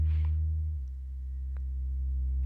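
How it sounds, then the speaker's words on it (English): An ambient synth bass note is held in a low, steady sustained drone, dipping slightly and then swelling back up as the mod wheel modulates it, with faint clicks above and no voices. "It's the modulation of the mod wheel swelling the note"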